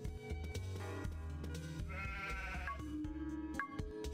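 Sheep bleating in the Harvest Moon: Magical Melody farming game as it is sheared, a short cry heard over busy game music with no talking.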